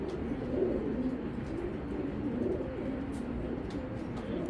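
Racing pigeons coo in a loft, with low, soft, continuous cooing from several birds close by and no talking.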